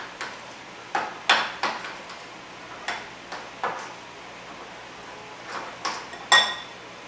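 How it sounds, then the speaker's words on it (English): A spoon stirs a honey, salt and pepper mixture in a bowl, giving a series of sharp, irregular clinks and taps against the side, close and clear over a quiet background. "Stir all that together until it's nice and smooth."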